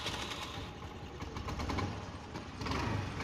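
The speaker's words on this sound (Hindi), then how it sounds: "तो चलिए हम चालू करते हैं एक्टिवा।" A Honda Activa scooter engine starts and settles into a steady idle after an engine-flush oil cleaning, a close, continuous mechanical putter with a louder surge near the end.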